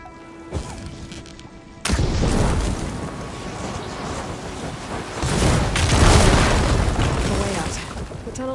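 Blaze barrels ignited by fire ammo in Horizon Forbidden West go off in a loud sudden boom, followed by rumbling blasts and debris crashing that swell again later.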